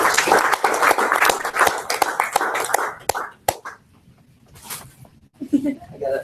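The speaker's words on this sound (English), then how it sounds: "let's give him a round of applause for welcoming" Audience applause at a university finance speaker event, dense clapping filling the first three seconds, then fading to sparse claps and quiet room noise with a brief return of clapping at the end.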